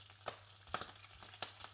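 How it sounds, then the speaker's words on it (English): Bacon and eggs frying in a pan, with a steady low hiss and soft crackle broken by several sharp pops and spits, close and moderately quiet, with no voices. "Only the sizzling of bacon and eggs filled the space."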